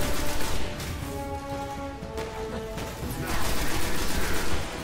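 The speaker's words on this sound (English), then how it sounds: "Take cover and shoot him down." Dense gunfire in the sci-fi shooter Destiny, with overlapping bursts and shots rolling steadily through the whole stretch, loud and busy with a tonal game background underneath.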